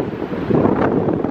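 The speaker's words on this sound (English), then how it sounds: "Wow, the waves are really crashing." Surf crashes and swells at a beach in Lincoln City under heavy wind buffeting the microphone, one steady blustery rush without any voices.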